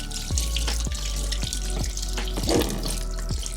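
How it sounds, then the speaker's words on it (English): Water runs from a tap into a wash basin at a small work-space handwashing station during hand washing, a steady close splashing stream with a few brief clinks and knocks over it, no voices. "And so I turn on the water first, grab a little soap in my hands, and then I wash my hands."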